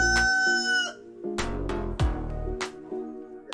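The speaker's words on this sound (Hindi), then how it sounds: "मुर्गा।" A rooster crows loudly and close by in a tonal, rising call, followed by further clucks and bursts from farm fowl. No one speaks.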